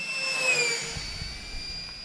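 Freewing F-105 Thunderchief radio-controlled jet with a 64mm electric ducted fan making a fast pass, a steady high-pitched whine whose pitch sweeps downward as it goes by, fairly loud and alone.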